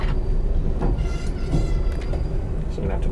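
A train on a railway rumbling steadily with a low, heavy drone and faint rattling, heard from close by, while voices talk over it.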